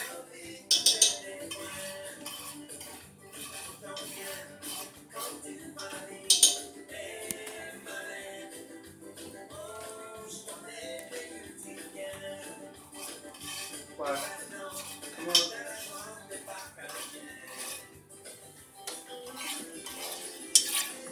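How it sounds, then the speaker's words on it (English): Spoon stirring gravy in a pot as sugar browns in grease on a Cajun home stove, with soft repeated scrapes and clinks of metal against the pot and occasional sharper knocks, close and moderately quiet. "Want to stir it up in there real good, man."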